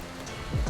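Pouring rain drums steadily on a vehicle roof during an off-road drive along a flooded Roman road, a dense continuous patter with a couple of heavier low thuds near the end.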